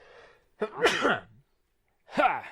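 A person sneezes sharply and close by, followed moments later by a second quick sneeze after a short pause.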